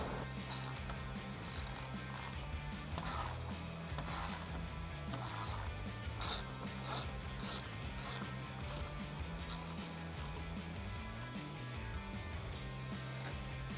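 A hand ratchet clicks in quick repeated bursts, removing bolts from the hinge bracket of a Jeep Wrangler JL 4-door, with steady mechanical ratcheting close by against a continuous low background hum.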